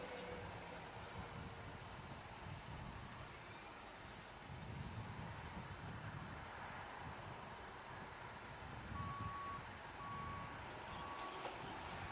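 A flatbed recovery truck arriving at Stowe Corner during a 24-hour endurance race at Silverstone gives faint, evenly spaced reversing beeps late in the clip, over a constant wash of distant track and crowd noise, with no talk.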